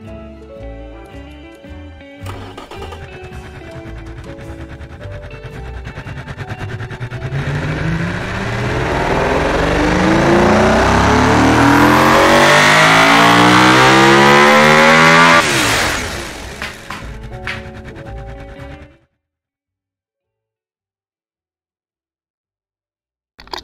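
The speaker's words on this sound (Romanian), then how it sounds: "O să vă dau ca să auziți motorul." A 620 horsepower race car engine in the BeamNG video game revs hard through rising gears, building to a loud sustained scream before cutting off abruptly into silence.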